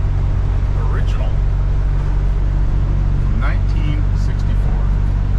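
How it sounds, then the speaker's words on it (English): A 1964 Buick with a 225 cubic inch V6 cruising on a Sunday drive gives a steady, loud low engine rumble with road noise throughout, while someone talks over it at intervals. "Buick torque. 225 cubic inches of V6 power."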